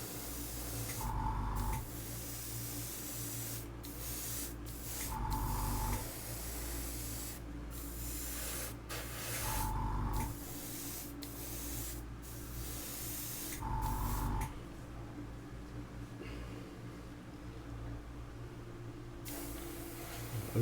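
An aerosol can sprays paint onto a Hyundai i20 WRC model kit in four short bursts spaced a few seconds apart, close and hissing over the steady hum of an extractor fan.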